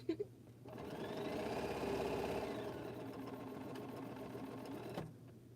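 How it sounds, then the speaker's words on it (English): A home sewing machine stitching a jelly roll quilt block, a steady mechanical whir of rapid stitching running for several seconds close up, starting and stopping abruptly with a light click at each end. "Alright, one more stitch to the center."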